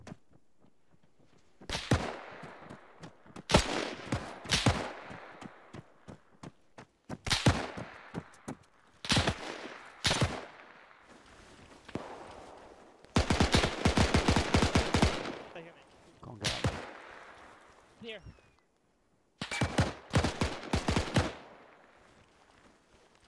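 Gunfire in the military shooter Arma 3, loud bursts of automatic and single shots in irregular clusters separated by brief lulls, with occasional players' voice chat in between.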